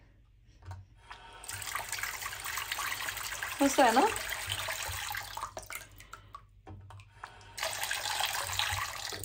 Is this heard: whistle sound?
no